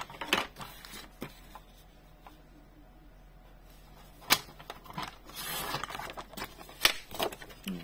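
Scissors cutting dark cardstock to size for a scrapbooking card, heard as a few sharp, close snips and crisp scraping strokes scattered between quiet pauses, with no talking.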